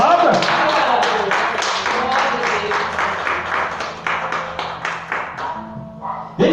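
A Pentecostal church congregation claps and applauds in a steady rhythmic burst that gradually thins out, with voices calling out over the clapping.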